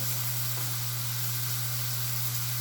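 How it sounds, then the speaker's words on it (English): Steady, loud broadband sizzling of steak frying in a hot pan, continuous hiss over a low electrical hum. "y'all see that sizzle on that steak right there?"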